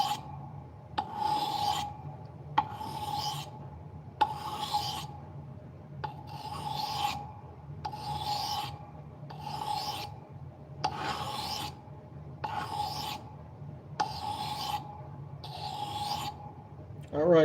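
A blade is drawn across a 1000 grit sharpening stone in steady rasping strokes, about nine evenly spaced passes, each a close, scratchy rub with brief pauses between, heard alone without talk.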